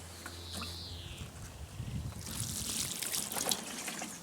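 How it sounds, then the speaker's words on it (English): Water trickles and splashes into the soil of a dry potted pepper plant during container gardening, a steady close pour that grows a little louder toward the end, with no talking. "I'm going to give it a little bit of water considering it was very dry."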